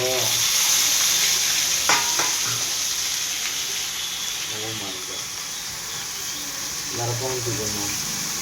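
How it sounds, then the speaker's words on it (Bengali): Vegetables for a rui fish, eggplant and potato curry added to a pan of reddened onions and garlic, giving a steady frying sizzle with stirring scrapes and a brief voice now and then. "এখন আমি সবজিগুলোকে এখানে ছেড়ে দেবো।"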